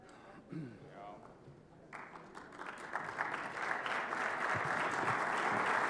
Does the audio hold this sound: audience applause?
yes